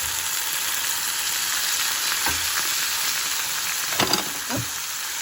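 Cut tomatoes fry in a pan for masoor daal, a soft continuous sizzle with a few light stirring scrapes near the end, fairly quiet, no talk.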